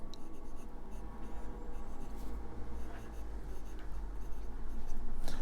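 Steel medium nib of an aluminium fountain pen scratching softly across paper, a faint, close, continuous writing rustle with small strokes and pauses.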